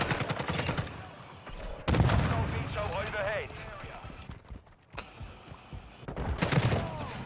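Bursts of automatic gunfire from the video game Call of Duty: Modern Warfare II, loud repeated rapid volleys broken by brief pauses, with a player's voice talking over parts of it.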